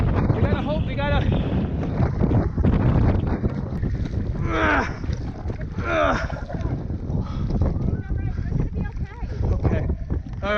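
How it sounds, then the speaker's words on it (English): Strong gusting wind roars across a cruise ship deck, buffeting the microphone continuously as people shout and talk through it, with a few rising vocal exclamations over the steady rush. "I can't fight the wind. It's too much."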